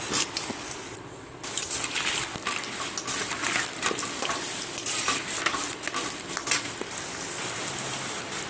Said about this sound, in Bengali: এবারে এই তেলের মধ্যে আমি আলুটাকে ভালো করে লাল লাল করে ভেজে নেবো